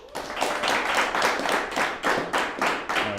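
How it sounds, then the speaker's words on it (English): A studio audience claps for a host's show opening, brisk steady handclaps in a regular rhythm lasting the whole time, loud and close with no talking. "Audience, can I get a round of applause?"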